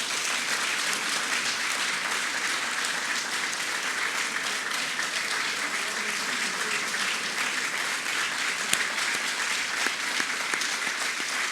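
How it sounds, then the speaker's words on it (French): An audience applauds President Macron at a ceremony presenting him with a parchment, with dense, steady clapping filling the whole stretch without a break. "On peut applaudir le Président."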